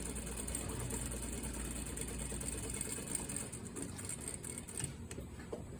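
A sewing machine runs steadily while sewing a double welt pocket sample, a continuous close mechanical hum and rattle without pauses, with no talking.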